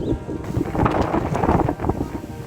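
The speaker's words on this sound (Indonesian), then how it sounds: "anginnya juga kencang" Strong wind outdoors near a playground by a small water dam, a steady loud rushing buffet on the microphone with faint background sounds throughout.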